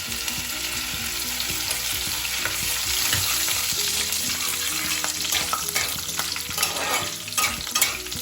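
Bay leaves and panch phoron frying in hot oil for a mixed vegetable curry with jackfruit seeds, a loud continuous sizzle with scattered crackles and spatula stirring throughout.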